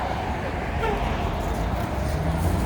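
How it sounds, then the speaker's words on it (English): A number 4 city bus passes on Michigan Avenue in downtown Chicago in winter, its steady engine and road rumble blending into dense traffic noise, with no clear horn standing out. "Number 4 bus."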